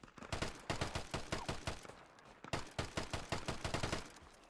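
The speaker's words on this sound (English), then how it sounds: "That's the AI, by the way, the ones that are shooting me from the right." Rapid bursts of gunfire from AI enemies in the video game Deadside crackle in quick repeated volleys, two dense sequences of sharp shots separated by a brief pause, with no talk over them.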